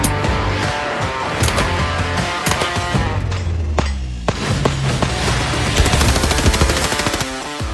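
Rapid AR rifle shots crack out one after another at a range while firing at a BulletSafe bulletproof panel, loud, dense and sharp, with some shots overlapping into near-continuous bursts.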